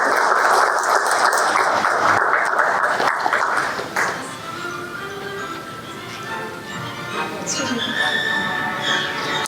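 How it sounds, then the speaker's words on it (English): Audience at an awards ceremony in Oman breaks into loud applause that fades after a few seconds, leaving quieter room sound and talk. "A little applause would help."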